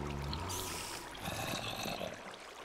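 Water flowing in modded Minecraft, heard as a continuous, fairly loud rushing and pouring wash with a slight gurgle, steady for the whole stretch.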